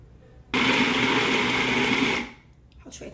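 A food processor whirs loudly at high speed for about two seconds, chopping dill, herbs and onion for falafel, then spins down to quiet.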